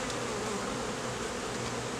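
Honeybees hum steadily inside an open hive during a swarm rescue, a dense, continuous buzz close by with no talking.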